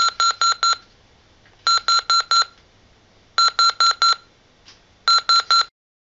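An electronic phone alarm rings in the morning in four separate bursts of rapid, identical beeps spread over several seconds, fairly loud and close, with no voices.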